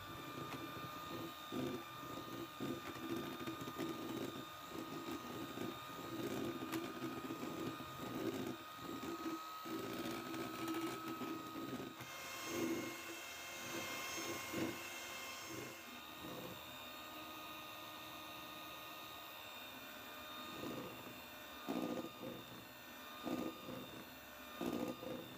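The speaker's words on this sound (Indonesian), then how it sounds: "Dan ini kita kocok sampai kuning telurnya mengembang dan juga kental." An electric mixer whirs steadily for the whole stretch as it whips egg yolks and powdered sugar to a thick, fluffy consistency for layered lapis legit cake batter, a constant close motor drone with slight shifts in pitch.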